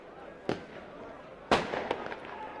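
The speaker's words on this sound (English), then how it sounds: "as the fireworks continue to go off" Fireworks burst at a 2001 Workington versus Whitehaven rugby league match, with two sharp loud bangs and a few smaller cracks over steady crowd noise and a commentator's voice.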